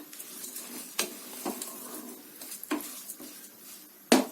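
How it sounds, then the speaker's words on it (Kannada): Rice frying in oil in a pan on medium flame for methi leaves and avarekalu rice bath, with soft sizzling under clinks and scrapes of a spoon stirring, sharp metallic taps now and then. "ಈಗ ಸ್ವಲ್ಪ ಅಕ್ಕಿ ಹಾಕೊಂಡು ಅಕ್ಕಿನ ಸ್ವಲ್ಪ ಫ್ರೈ ಮಾಡ್ಕೊಳ್ಳಿ"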